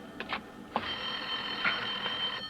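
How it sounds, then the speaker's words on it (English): An old-fashioned telephone bell rings in a radio drama, with a few short bursts followed by a long sustained ring, loud and close, and no voices over it. "Oh, Lorna, there's a phone"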